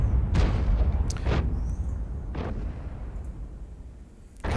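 Booming shots from a German self-propelled artillery gun in the World of Tanks game, two or three loud low blasts with rumbling tails over a steady low battle drone, without speech.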